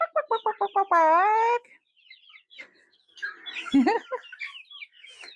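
Young chicks cluck and peep close by in quick, scattered calls, with a person's voice calling out briefly near the start.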